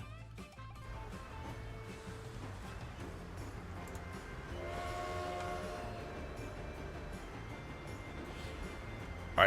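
Game trains running in Transport Fever, a steady rolling rumble of wagons on track with a sustained horn-like tone around the middle, continuous and fairly loud with no talking.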